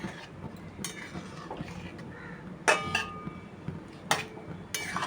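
Soybean muithya is stirred slowly in a pan over low heat, with a few distinct utensil clanks and scrapes standing out over a quiet, soft background, close by and with no talk.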